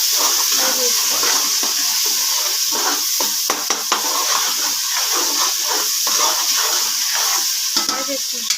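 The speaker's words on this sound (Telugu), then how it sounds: "ఫ్రై చేసుకుంటున్నాము" Tomatoes frying with ginger garlic paste in a pan give a continuous bright sizzle with hissing steam, broken by scraping stirs and a few clicks, loud and close for several seconds.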